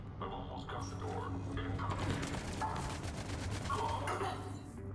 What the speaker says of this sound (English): I'm assuming it was James, just based on the gunfire.